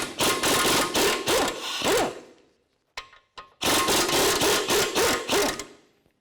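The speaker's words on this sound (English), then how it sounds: "19mm socket, remove both lower ball joint nuts" A power tool with a 19mm socket spins off the lower ball joint nuts on a 2011-14 Hyundai Sonata's control arm, two loud whirring bursts separated by a brief pause with a couple of short clicks.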